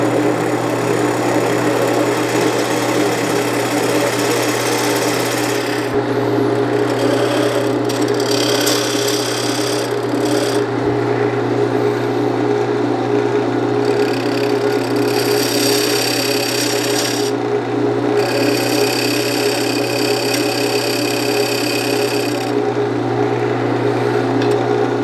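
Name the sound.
wood lathe turning Osage orange bowl with diamond tool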